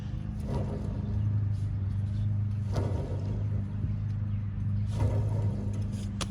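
A worn vehicle wheel bearing, spun by hand, gives a steady low groaning drone with faint knocks recurring every couple of seconds, close by.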